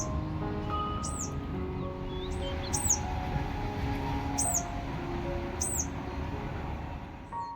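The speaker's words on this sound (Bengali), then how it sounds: "এই পাখিটার ডাক শুনতে পেলাম" A small bird with a pale yellow belly calls on a cloudy morning, giving short, sharp chirps in an irregular series over a steady low hum.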